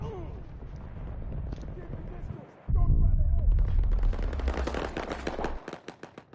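Rapid automatic gunfire erupts in a Battlefield 2042 match, dense loud bursts that cut in abruptly after a quieter stretch of game noise, with a voice talking during the action.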